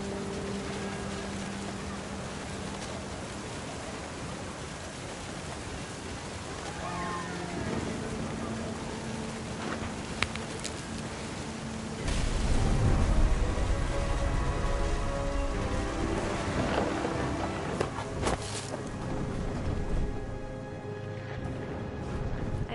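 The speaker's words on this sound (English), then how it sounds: "The thunder sounded much too close and full of angry power." Steady rain with a low rumble of thunder swelling midway, in a stormy scene of the video game What Remains of Edith Finch, with a voice narrating over it.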